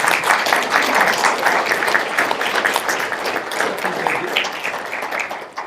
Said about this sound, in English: Can we have a round of applause for our speakers?